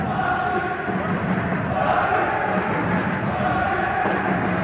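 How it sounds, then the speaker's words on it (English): A steady roar from the crowd at an African Olympic boxing qualifying semi-final, a continuous wash of cheering with no clear breaks and a voice faintly audible within it. "Cheers of Marley from the crowd"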